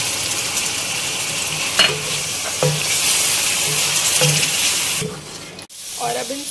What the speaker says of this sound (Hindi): और अब इन सब चीज़ों को साथ में हमें भूनना है अच्छी तरह से 2 से 3 मिनट तक।